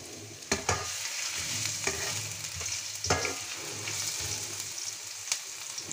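Dried red chillies and chopped ginger fry in oil in an electric curry cooker, giving a steady close sizzle broken by a few sharp stirring scrapes and clacks.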